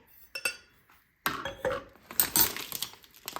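A spoon scoops coffee for brewing, giving a few close metallic clinks and scrapes against a container after a brief quiet pause, with no talking.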